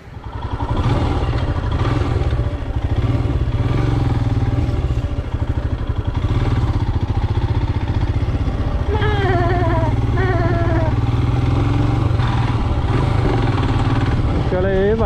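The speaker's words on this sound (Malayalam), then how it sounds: "അതായത് ഈ ബൈക്ക് വെച്ച് ഏറ്റവും നീണ്ട റൈഡ്." A motorcycle on a long ride, its engine holding a loud, steady low drone with a rattly edge throughout, while a voice talks over it.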